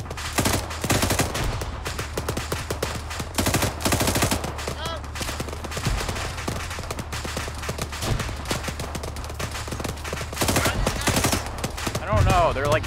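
Arma 3 battlefield gunfire crackles in repeated bursts and single shots over several seconds, with automatic volleys near and farther away, mixed with occasional shouted talk between soldiers.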